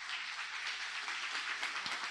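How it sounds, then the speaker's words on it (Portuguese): Church congregation applauding loudly to the Lord during a sermon, a steady wash of many hands clapping, heard somewhat distant and quiet. "Aplauda bem forte ao Senhor."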